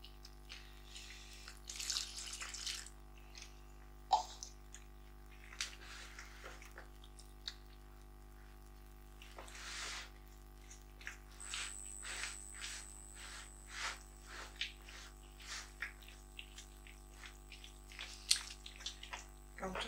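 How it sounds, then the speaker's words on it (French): Lukewarm water is poured into flour for Sardinian carasau bread dough, a soft splashing trickle that comes and goes, faint and close, with a voice speaking at times. "À la farine, l'eau tiède."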